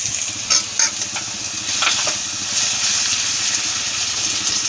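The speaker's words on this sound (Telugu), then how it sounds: "ఇప్పుడు టమాటా ముక్కలు కట్ చేసి పెట్టుకున్నాను కదా ఇవి కూడా వేసి" Tomato pieces fry with onions in a pan for an egg-pieces curry, giving a steady, close, loud sizzle with occasional stirring scrapes throughout.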